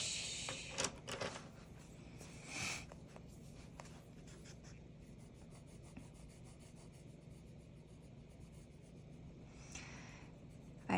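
Colored pencil rubbing lightly across paper with a light touch, a soft continuous scratchy rasp of steady strokes, close and quiet, with a few slightly louder scrapes along the way.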